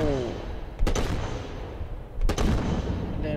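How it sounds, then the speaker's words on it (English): Gunfire in the PC video game Ride to Hell: Retribution: two sharp, loud gunshot blasts about a second and a half apart, each cracking out over a steady low rumble of game background noise. "And then we heard a gunshot."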